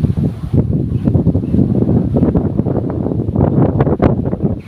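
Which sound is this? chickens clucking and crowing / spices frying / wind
wind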